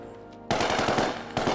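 Rapid burst of gunfire, like a machine gun firing through a bedroom door during a night raid, loud and close, with a second burst after a brief gap.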